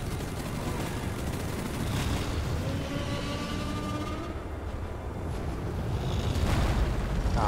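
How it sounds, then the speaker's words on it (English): Explosions rumble continuously in the video game Deep Rock Galactic, a dense, low, roaring barrage of blasts and gunfire-like crackle that swells louder toward the end, with no clear pauses. "Things are exploding everywhere."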